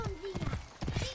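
Horse hooves clip-clop in a quick, steady rhythm in Assassin's Creed Origins gameplay, close and fairly loud, with a faint voice and game ambience running underneath.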